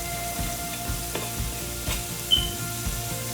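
Onions going into a hot pot with beef and red wine vinegar for caldo de res, a soft continuous sizzle with a few light stirring clinks and scrapes, close and moderate, no talk.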